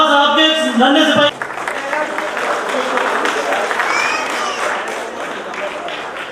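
A voice announces over a loudspeaker at a Dr. Ambedkar Jayanti gathering, then crowd clapping rises and continues at a moderate, even level for several seconds.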